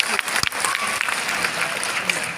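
Applause from a college gathering fills the hall, a steady wash of many hands clapping close by, with a few sharper claps standing out and some murmur underneath.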